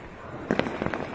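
Several sharp fireworks pops and crackles burst in a quick cluster over a steady background hum, during an out-of-season Diwali-style celebration in Azad Market, Delhi.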